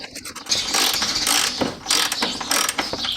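A ratchet spanner drives the front bolt into a Peugeot suspension bush in fast, loud, close clicking bursts with short pauses between strokes.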